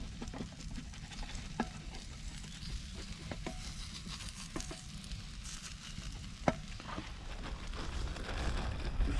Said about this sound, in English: Claire's eggs and bacon has been cooking for a little while now